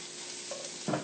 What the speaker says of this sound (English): Keep that sizzling going.